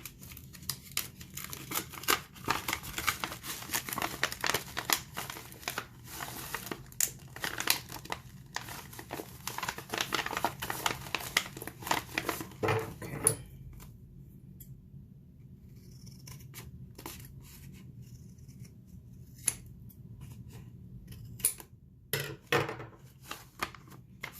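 Scissors trim the bottom of a chip bag in a long run of quick, crisp snips and crinkling plastic, close and fairly quiet, thinning to a few scattered cuts and rustles after the midpoint.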